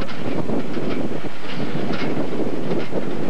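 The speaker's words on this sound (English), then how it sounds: "The wind's blowing in my face as we go." Wind blows steadily across the mic on the moving Puente Colgante transporter bridge, a loud broadband rush with gusting swells and a low mechanical rumble underneath.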